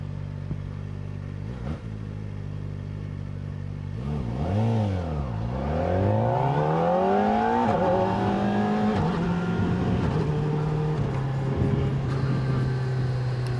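A Kawasaki Ninja ZX-4RR motorcycle accelerating hard on a road, its engine close and loud, revving up through rising pitch sweeps with quick-shifter gear changes, then settling into a steady drone.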